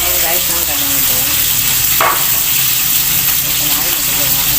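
Galunggong fish frying in a pan, a steady loud sizzle and crackle throughout with a brief spatter burst midway.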